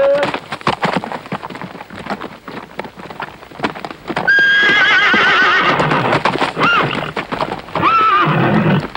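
A wild war horse neighs loudly in several rising whinnies over a steady clatter of hooves and rain-like noise, close and forceful.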